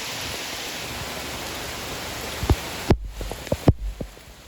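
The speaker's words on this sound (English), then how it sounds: "Pouring rain." Pouring night rain beside a creek, a steady loud broadband hiss of downpour throughout, with a few sharp splashes or knocks near the end.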